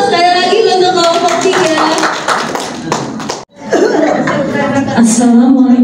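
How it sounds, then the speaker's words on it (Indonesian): Applause breaks out from a classroom audience at a science teaching presentation, mixed with lively voices, cheering and chuckling, fairly loud and close throughout. "Tepuk sekali lagi untuk kelompok"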